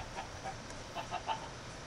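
Minecraft chickens clucking in the game, a few faint, short clucks scattered over a quiet background.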